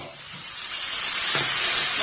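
Tamarind and tomato fry in a hot pan for onion chutney, a close, steady hiss and sizzle that swells slightly as the pieces go in, with no talk over it.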